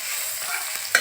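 Spices fry in a pan for a chicken soup, giving a steady soft sizzle with light stirring. A brief clink sounds near the end.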